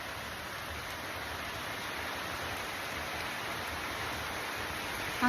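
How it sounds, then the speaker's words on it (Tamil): Heavy rain falls near a railway ticket counter, making a dense, even hiss that holds steady throughout without any talk. "ஆனால் பெரிய மழையா வருது"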